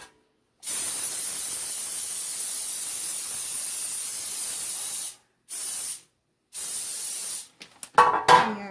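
Cooking spray hisses onto a baking pan for a coconut poke cake in three steady bursts, one long and two shorter, each close and loud, followed by a light clatter of the pan.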